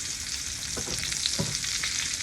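Salmon sears in a very hot pan, a steady close sizzle that runs the whole time, with a few soft scrapes or shifts of the fish partway through.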